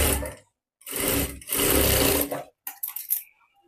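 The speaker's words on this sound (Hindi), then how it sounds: "यहाँ से मैं सिलाई लगाना स्टार्ट कर रही हूँ।" Sewing machine stitching a blouse sleeve at the shoulder in bursts, with two sustained runs of rapid mechanical whirring and short choppy starts near the end, close and loud with no talking.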